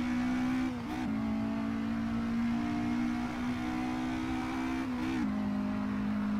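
Porsche 718 RS 60 engine in Assetto Corsa revving hard at sustained high pitch, with two brief dips where gears shift before the drone climbs again, loud and steady throughout.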